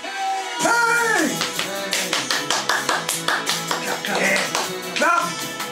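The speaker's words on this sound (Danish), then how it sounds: "Klap!" Hands clap in a quick, even run of close, sharp beats amid a lively children's party, with cheering and voices over the rhythm.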